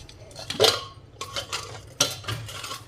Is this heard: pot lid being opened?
yes